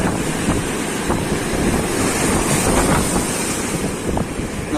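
Heavy breakers from a rough spring-tide sea roll onto the beach right by a resort entrance, an unbroken, loud wash of surf mixed with strong wind noise on the microphone.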